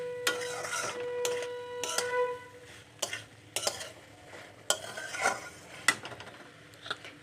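A spice masala is stir-fried in a pan, with a spatula scraping and clattering in sharp, irregular strokes over a low sizzle, fairly close and with no voices.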